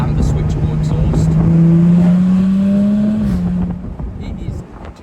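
A 2018 Jaguar F-Type 3.0 V6 R-Dynamic P380 AWD convertible with switchable exhaust revs hard, its loud engine note climbing steadily for a few seconds before dropping off into a rumbling idle close by.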